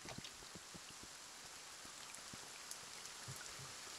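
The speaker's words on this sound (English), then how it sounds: "It's raining." Rain falls in the video game Kingdom Two Crowns as a faint, steady hiss with scattered soft drop ticks, quiet and without talk.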